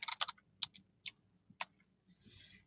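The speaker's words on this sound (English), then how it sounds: "So I'm going to go ahead and type in histone." A few quiet keystrokes tapped on a computer keyboard, in short uneven bursts with gaps between them, close up and nothing else heard.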